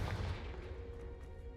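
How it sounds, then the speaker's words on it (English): A Confringo fire spell blasts in a magic video game, a loud low rumbling boom that rolls on for over a second with a steady crackling tail. "The first time Ominous and I practiced Confringo, we singed our eyebrows."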